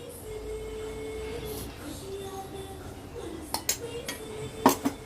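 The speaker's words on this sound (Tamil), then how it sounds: "கருவேப்பிலை பொடியை சேர்த்து நல்லா கலரி விட்டு" Curry leaf rice being mixed with curry leaf powder in a metal pot, with a low background hum and then a few sharp clinks and scrapes of a spoon against the pot near the end.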